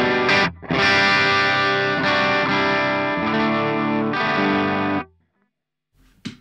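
An electric guitar runs through a Hotone Ampero II with a Mesa 4x12 dual rectifier cab sim, giving a thick distorted chord that rings out, is struck again and then stops dead into silence.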